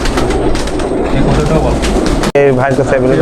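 Pakistani high-flying pigeons cooing in a crowded loft of around six hundred birds, dense overlapping coos close by, with a voice speaking over them and a brief cut partway through.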